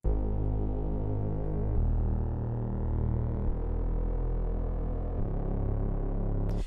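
A low Serum synth bass patch built from a sawtooth wave with unison, light filtering, chorus and reverb, playing sustained deep notes that shift pitch every couple of seconds, steady and alone with no voices.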